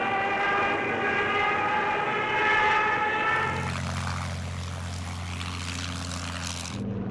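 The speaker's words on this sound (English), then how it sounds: "German dive bombers, heavily escorted by fighters," German dive bombers, heavily escorted by fighters, attack a convoy. A loud, sustained roar with a rising tonal whine gives way to lower droning engine tones that continue to the end.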